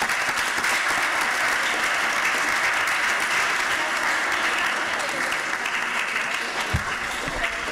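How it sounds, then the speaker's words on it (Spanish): Loud, sustained applause from an audience at a civic event closing ceremony, dense even clapping filling the room for several seconds without a break. "Un aplauso para ella."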